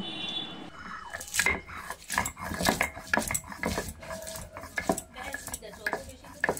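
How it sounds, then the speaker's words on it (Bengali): Green chilies and ginger are crushed on a flat grinding stone with a stone pestle, producing busy, irregular grinding, knocking and scraping that stays close and fairly loud throughout. "এখানে কাঁচা লঙ্কা আর আদাটাকে শিলনোড়ায় বেটে নিচ্ছি"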